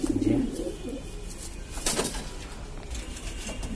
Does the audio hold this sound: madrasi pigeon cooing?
yes